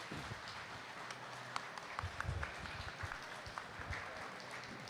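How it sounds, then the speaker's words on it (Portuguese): An audience at a comic convention gives the trio a round of applause, a soft, distant patter of many hands clapping through a roomy hall. "uma salva de palmas pro trio aqui"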